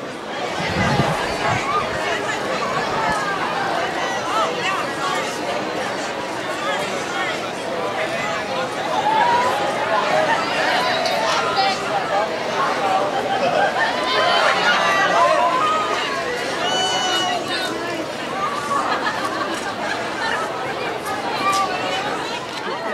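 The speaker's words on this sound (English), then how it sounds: "the crowd is getting crazy waiting for him to get here" Excited crowd outside the Arlington Theater at the Santa Barbara Film Festival, awaiting Ben Affleck: a dense babble of chatter and shouts, rising and swelling near the middle, close and lively throughout.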